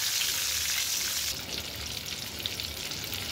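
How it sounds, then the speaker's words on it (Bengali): Eggs fry in turmeric-tinted mustard oil with a loud, steady, close sizzle that runs unbroken and softens slightly partway through. "এখন ডিমগুলো আমি ভেজে নেব।"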